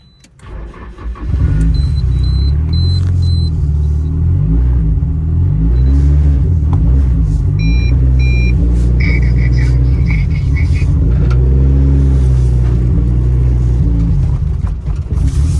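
A turbocharged Nissan Silvia S14 engine cranks and catches, then runs loud and close with a lumpy, uneven idle and occasional revs, some faint chirps and beeps over the rumble.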